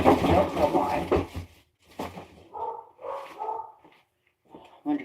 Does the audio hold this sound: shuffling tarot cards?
no